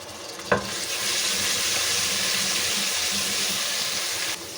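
Garlic ginger paste frying in hot mustard oil in a pan for a tandery greens and potato dish, a steady loud sizzle after a brief clink, with no talk.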